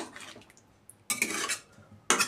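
A metal lid clatters onto a pot of kofta simmering in gravy, with two sharp bursts of clanking about a second apart, close and fairly loud against a quiet kitchen.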